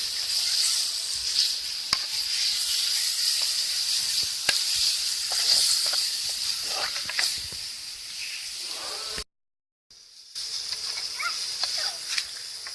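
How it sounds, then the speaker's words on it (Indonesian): Cleaned kemama fish sizzles steadily in a hot pan while being stirred, with a continuous loud frying hiss and occasional scraping ticks, broken by a brief dropout to silence near the end. "Masukkan ikan kemama yang sudah kita bersihkan. Aduk lagi."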